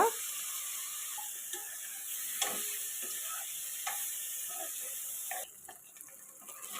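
Paneer pieces frying in oil with turmeric give off a faint, steady sizzle with a few soft clinks, heard close and alone.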